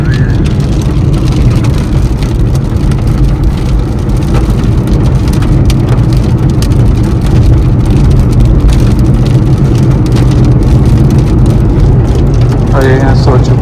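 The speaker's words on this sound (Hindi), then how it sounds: "ये बारिश हो रही है देखो" Steady rain drums on a car during a drive on an Indian highway, a dense, continuous hiss over low road and engine rumble that stays loud throughout, with occasional voices underneath.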